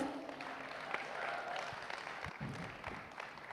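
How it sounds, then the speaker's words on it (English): Applause rises from the audience at the Miss Grand India 2023 pageant finale, a steady wash of clapping that is fairly faint and distant, with some voices mixed in. "Can we please have a huge round of applause?"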